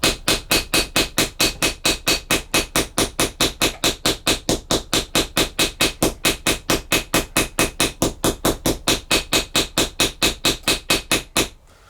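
A small ball-pein hammer domes a copper rivet on a leather bag, striking in a rapid, perfectly even run of about forty sharp, close metallic taps that stop abruptly near the end.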